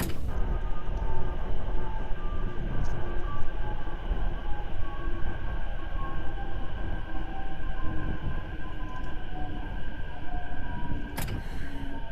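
A video-game train approaches in the BVE5 simulator on the Shin-Hama line, rumbling steadily with a low, continuous drone and faint rail clatter, holding a constant level throughout without voices.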